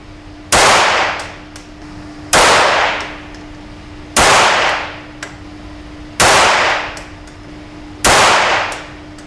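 A semi-automatic SK .22lr rifle fired at a target outdoors, five sharp cracks spaced about two seconds apart, each followed by a short fading echo over a faint steady hum.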